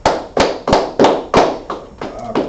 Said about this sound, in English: Just go ahead and clap it up.